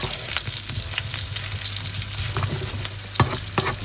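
Potatoes and cauliflower sizzle steadily in a hot pan while being stirred, with scraping spoon strokes and soft clatter close by over a continuous frying hiss; nobody speaks.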